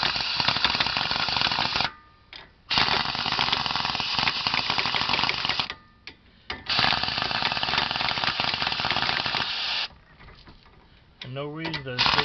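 A power impact wrench runs lug nuts onto a brake rotor in long, loud, continuous hammering rattles broken by short pauses, then a voice is heard near the end.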